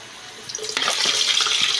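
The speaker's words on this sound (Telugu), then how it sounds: "మిర్చి, ఆనియన్ అయితే వేసిన, ఇవైతే వేగుతున్నాయి" Green chillies and onions frying in oil in a pan for Telangana-style bagara rice, giving a steady close sizzle and crackle that swells louder partway through.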